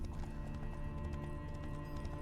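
Horse hooves clip-clop steadily at a walking pace in The Witcher 3 video game, close and continuous over a low game-music bed, with no talking.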